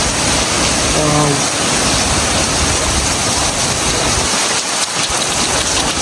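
Heavy rain pours down in Canada as a loud, constant broadband hiss, dense and unbroken, with a brief voice near the start.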